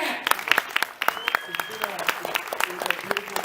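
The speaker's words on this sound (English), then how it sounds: "a round of applause for Jorge, our man" A crowd at an AAA Lucha Libre press conference at Madison Square Garden claps and cheers, dense applause with a few sharp whoops and a voice briefly audible over it.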